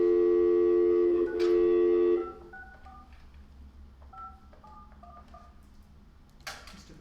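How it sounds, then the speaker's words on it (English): A steady telephone tone holds for about two seconds, then a quick run of touch-tone dialing beeps follows in short clustered bursts, clear and alone, as a call is placed to a city council member. "We're now calling Mr. Bradford."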